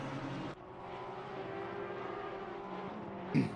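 GT3 race car V8 at Snetterton revs out along the straight, a sustained engine drone heard at moderate distance with a brief louder burst near the end.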